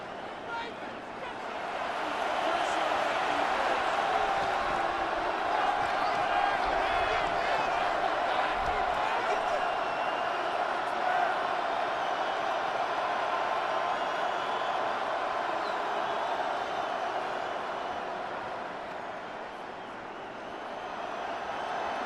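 A stadium crowd roars in a Madden NFL 26 simulated football game, a steady swelling crowd noise that rises in the first seconds and holds before easing slightly near the end.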